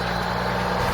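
A Western Star road train truck engine rumbles loudly and steadily up close, a deep continuous drone with no talk over it.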